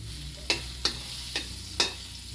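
Margarine melting in a hot kawali, used in place of oil for tuna sisig, with a quiet background sizzle and four spaced spatula scrapes against the pan.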